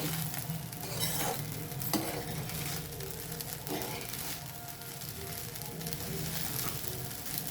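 Food heats in a pan while being stirred and mixed, a quiet steady sizzle with soft scraping and occasional light taps of the spoon.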